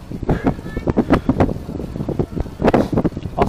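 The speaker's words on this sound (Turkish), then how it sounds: "çok kötü bir ters rüzgar esmeye başladı" A strong headwind gusts on a coastal gravel bike path through a forest near Florya, loud buffeting wind noise on the microphone that surges in uneven bursts throughout, with no talking.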